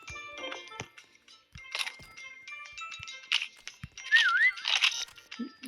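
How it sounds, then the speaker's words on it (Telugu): A whistle signal inside a Roblox video game gives a brief warbling, wavering tone near the end, set among scattered clicks, crunches and other game noises. "ఇంకోసారి విజిల్ వస్తే బాగుండే."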